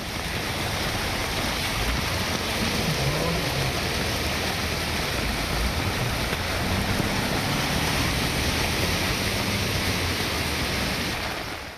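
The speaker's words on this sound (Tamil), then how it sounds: "மழை நல்லா பெஞ்சுது" Heavy rain pours down in Tamil Nadu, a steady dense hiss that holds at an even, loud level throughout with no breaks and no voices.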